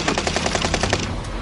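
Gunfire in the video game Warzone, with a fast, steady automatic burst of about a dozen evenly spaced shots that stops abruptly and leaves a short tail.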